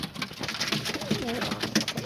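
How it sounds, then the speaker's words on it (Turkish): A male cep hünkârı pigeon coos close by in a rolling, throaty series of low warbling calls, with slight background clatter and no talk. "Bir cep hünkârım var. Erkeği bu."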